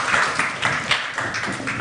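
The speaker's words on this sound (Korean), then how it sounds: "네, 박수로 맞이해주세요." A university idea-festival audience claps to welcome a student team of presenters onto the stage, a steady, dense patter of many hands filling the room for a couple of seconds.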